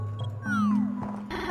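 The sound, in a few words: cat meowing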